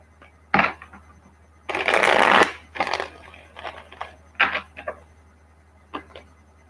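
Close-up tarot card shuffling: a sharp snap, then a long riffling burst followed by scattered taps and light card clicks, no voices.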